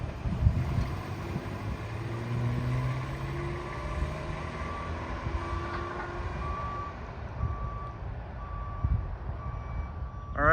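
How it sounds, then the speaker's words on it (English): A construction vehicle backing up sounds repeated, regular reversing beeps in the middle distance over a low engine rumble and outdoor background noise. "listening to some construction beeping"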